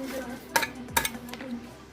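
Egg being mixed into fish pakora batter in a bowl, with a few distinct clinks of a utensil against the dish and soft stirring over a steady kitchen hum.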